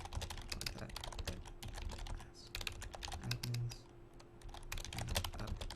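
Rapid clattering keystrokes on a computer keyboard, heard up close during an online Overwatch esports cup broadcast, steady and continuous with a low hum underneath.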